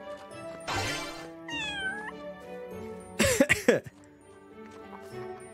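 Cat meows in the farming and exploring game Everdream Valley, a drawn-out meow followed by a rising, wavering one and then a louder burst of sharp, overlapping cries near the end, over a steady game music backdrop.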